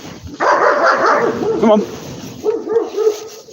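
A dog barks repeatedly at a fence during a woodland hike in Russia, loud and close, with short yips among the barks. A person calls out over the barking.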